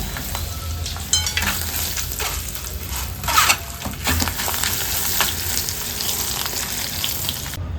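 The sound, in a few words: cut dried red chillies frying in oil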